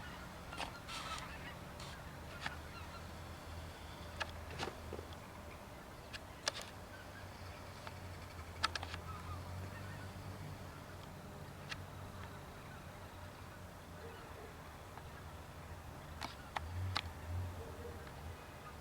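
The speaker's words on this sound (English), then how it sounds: "There's some geese. Oh, there they are." Geese honk in scattered bursts as they fly overhead at a distance, faint calls repeating irregularly over a quiet outdoor background with low rumble.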